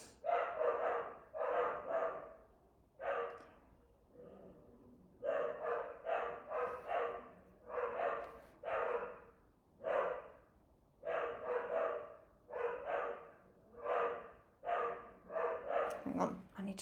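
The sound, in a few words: dogs barking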